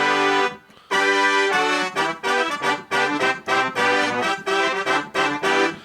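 A brass layer from a MainStage 3 keyboard patch for "I Want You Back", bright stabbed chords in a punchy, repeated rhythm, loud and alone, after a short gap at the start.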